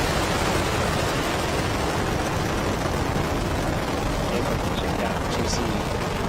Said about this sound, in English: Liftoff of the Falcon 9. Falcon 9 is over tower.